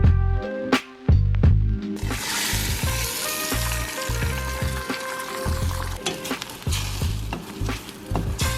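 Eggs sizzle in a frying pan while being stirred and scrambled, with a steady frying hiss broken by repeated scraping and tapping strokes of a utensil against the pan, close and fairly loud.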